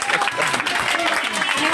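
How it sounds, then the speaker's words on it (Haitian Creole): An audience at a comedy show breaks into steady applause and crowd noise, with voices mixed in over the clapping. "On applaudit."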